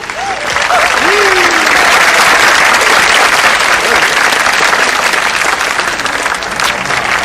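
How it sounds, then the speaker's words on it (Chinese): Loud, sustained applause from an audience that fills the whole stretch, with a brief voice or cheer near the start. "来，掌声啊！"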